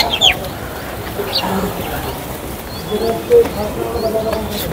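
Pigeons at a loft during a pigeon flying competition, with faint coos and brief bird calls scattered over a steady noisy outdoor backdrop of distant voices and general hubbub.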